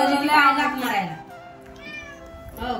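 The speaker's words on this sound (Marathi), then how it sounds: "मांजर आली खायला मागायला." A cat meows close by, one long wavering call followed by shorter, fainter mews as it begs for food, with a person speaking over and between the sounds.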